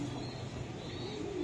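Leg-tagged racing pigeons of the Mili breed coo softly and continuously, with a low, steady throaty rumble close by and no talking.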